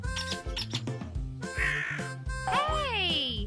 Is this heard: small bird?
yes